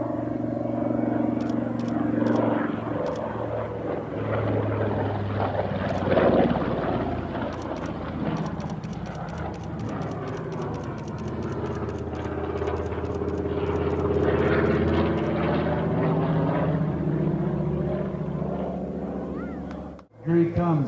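A Mitsubishi Zero fighter plane roars past at a Maine air show, a loud sustained propeller-engine drone with a sweeping pitch shift as it passes low, while an announcer talks over it.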